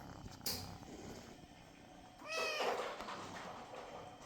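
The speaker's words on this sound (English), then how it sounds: "I just found this kitten" A faint, quiet scene with a soft stray kitten's meow partway through, high and wavering, amid low rustling and a brief sharp noise earlier.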